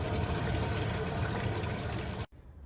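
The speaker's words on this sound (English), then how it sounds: "filling this water tank, I just have the hose kind of tucked in there" Water from a garden hose tucked into the fill opening of a NuCamp camper's water tank, a steady loud rush and pour that cuts off abruptly near the end, leaving a quiet trickle.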